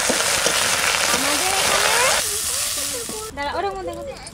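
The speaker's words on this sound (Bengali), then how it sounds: "মেথি শাকটা একটু ভেজে নেবো।" Fenugreek greens fry in a hot pan with a loud, dense sizzle that hisses steadily, then softens as a voice talks over it.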